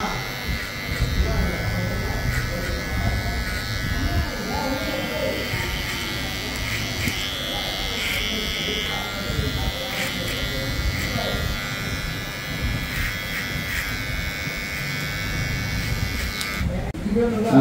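An electric hair trimmer buzzes steadily at close range as it cuts hair during a haircut, with a continuous high whine running beneath someone talking throughout.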